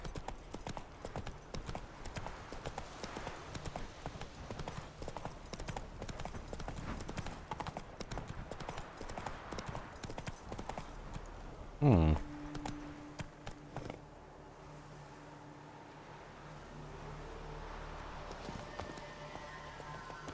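Roach the horse trotting in The Witcher 3, a steady clip-clop of hooves on the ground for several seconds under occasional talk, then a sudden whoosh and a quieter stretch with only faint ambience.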